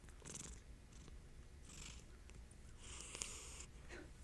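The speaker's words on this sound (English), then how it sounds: "Little ASMR purring." A cat purrs close and quiet, a soft rhythmic rumble with gentle breathy pulses and nothing else around it.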